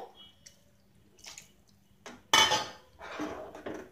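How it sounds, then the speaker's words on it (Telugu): Water splashes into a pot of thickened sambar in a short burst after a few clinks of metal utensils, close by and fairly loud. "ఇప్పుడు ఇందులో వాటర్ వేసుకుందాము"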